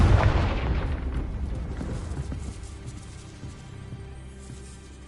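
A Confringo fire spell explodes in the Hogwarts Legacy video game, a loud broadband burst at the start that rumbles and decays over several seconds into a low lingering roar.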